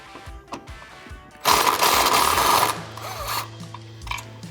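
A tool loosens the 13 mm strut top bolts on a Challenger, a burst of loud whirring or grinding for about a second amid soft ratcheting clicks and knocks before and after.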